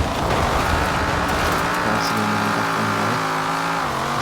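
Drifting car in Forza Horizon 4 with a continuous, loud engine roar and sliding tire noise, revs rising and stepping through gears across the whole stretch, no talk.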